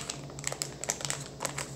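A plastic shipping package from a Target and Amazon haul is torn open by hand without scissors: close, soft crinkling and ripping in short irregular bursts, with no talking.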